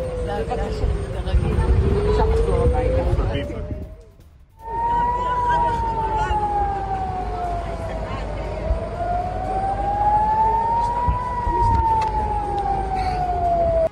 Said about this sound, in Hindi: बेन गुरियन एयरपोर्ट पर सायरन की आवाज गूंज उठी।